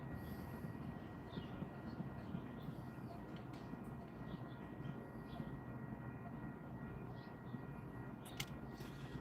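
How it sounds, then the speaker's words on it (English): A passing train rumbles steadily at a distance, a low continuous roar with faint rattling, heard quietly throughout and unbroken by talk. "train's really running today."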